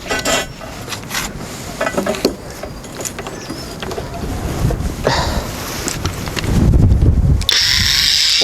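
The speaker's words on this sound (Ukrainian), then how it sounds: "Давайте спробуємо врізати арматуру. Арматура це у нас має е, сантиметр сантиметр в товщині" A Procraft PWA216 brushless cordless angle grinder cuts through roughly one-centimetre steel rebar, grinding noise building to a loud harsh burst before a high whine near the end, with wind buffeting the microphone.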